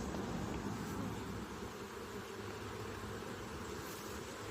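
Honeybees buzzing around an open hive during an inspection, a faint, steady hum that stays even throughout with no talk.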